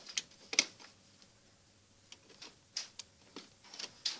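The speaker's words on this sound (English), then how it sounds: "I'll use a screwdriver." Screwdriver unscrewing the back cover of a mini fire alarm, a series of faint, sharp clicks and small scraping ticks at irregular intervals, close up in a quiet room.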